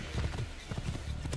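Horse hooves clip-clop at a rapid galloping rhythm in Assassin's Creed II, a steady run of muffled thuds at moderate volume without any talk.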